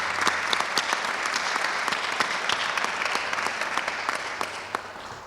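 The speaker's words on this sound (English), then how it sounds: "That's worth an applause." Applause from an audience at a municipal grant announcement in Chicopee, a dense, even wash of clapping with a few sharper individual claps standing out, sustained throughout.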